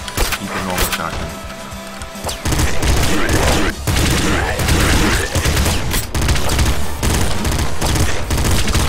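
Shotgun blasts in the game Nuclear Throne ring out repeatedly over dense, busy game noise, with loud and close booms recurring throughout alongside the game's music and effects.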